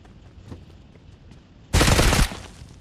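A rapid burst of automatic gunfire in the video game PUBG Mobile rattles for about half a second after quieter faint shots, loud and sharp against low background noise.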